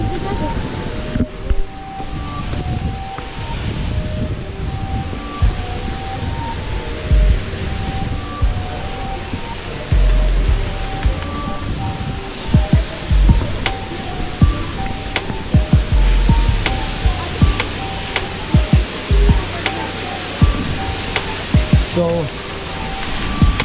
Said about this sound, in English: the water droplets are coming on our face from the waterfall